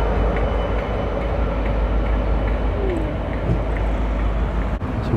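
The Northern Belle Pullman, a luxury passenger train, rumbles steadily past close by with a loud, continuous low roar of wheels and carriages.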